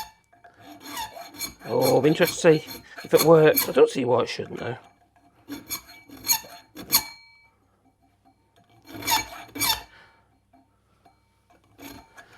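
A hand file rasps across the teeth of a holesaw in bursts of quick, scraping strokes, loud and close, separated by pauses and a voice.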